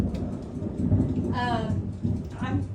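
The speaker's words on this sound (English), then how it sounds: "it's stormy in Oklahoma" Thunderstorm in Oklahoma, with heavy rain and a low, continuous rumble of thunder rolling underneath, while a person talks over the storm.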